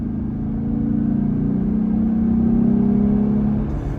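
A Jeep Gladiator engine fitted with an Airaid cold air intake gives a steady, throaty mid-range hum while cruising. It rises slightly and then eases off over a few seconds, heard from inside the cab.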